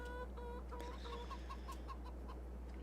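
Chickens on a ranch in a video game cluck close by, with a few short rising calls followed by a quick run of evenly spaced clucks over a low steady hum.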